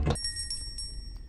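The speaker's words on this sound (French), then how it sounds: "je sonne la petite cloche" A small bell rings in the horror video game Granny, faint light chimes repeating several times after a brief low thump, with a thin high ringing tone hanging underneath.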